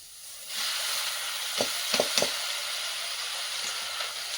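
Vegetables are tipped into a pan where native prawns were fried in very little oil, setting off a sudden loud hiss that settles into a steady sizzle, punctuated by a few light stirring clinks.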